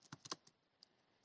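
Quiet computer keyboard typing, a quick cluster of four or five close keystrokes followed by a couple of isolated taps.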